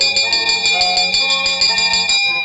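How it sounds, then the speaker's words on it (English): A ship's bell clangs in a rapid, steady run of bright metallic strikes during a shipboard ceremony, loud and close, then stops short with no talk. "Will you please ring the bell to get everybody's attention?"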